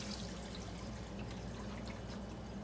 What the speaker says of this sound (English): I'm gonna put a little bit of water in here.